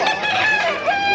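Roosters crow at a busy chicken market in Malabon, a loud, close call with bright stacked harmonics sustained across the whole short moment, no voices over it.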